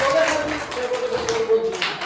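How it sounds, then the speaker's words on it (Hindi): An audience claps for a guest at a Guru Nanak Gurpurab celebration with children, a soft, steady patter of clapping mixed with a sustained tone and faint voices. "सर के लिए एक बार तालियां बजा दें।"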